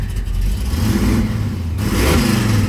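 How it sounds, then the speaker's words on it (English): A 1969 Camaro's supercharged, fuel-injected big-block V8 rumbles loudly nearby and revs up, with a deep, throaty growl throughout. "So I'm gonna push the clutch in, fire it up. Starts right up as you hear."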